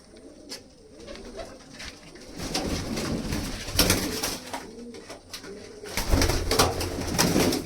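Pigeons coo repeatedly nearby, soft throaty calls overlapping in an uneven rhythm, with faint rustling and flutters between them.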